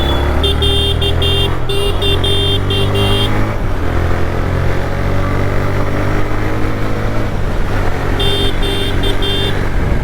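A motorbike engine drones loud and close without a break as the bike rides at speed, and a horn toots in short bursts at the start and again near the end.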